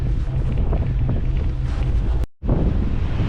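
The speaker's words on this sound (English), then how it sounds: "I hope you can hear me above the wind" Strong wind in Iceland roars and buffets against the microphone on a bike tour between Holmavik and Borðeyri, a loud rumbling gust that drops out for a moment before surging back.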